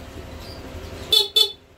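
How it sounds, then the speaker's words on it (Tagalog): A stock horn on a Honda Click 125 scooter gives two short, loud honks close by over a low background hum, with a brief gap between them. "yung busina niyo po na stock"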